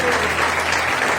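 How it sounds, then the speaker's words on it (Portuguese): Church congregation clapping in praise during a worship service, a dense, steady wash of many hands that carries on evenly for the whole moment, with a faint low hum underneath. "As palmas louvam o Senhor."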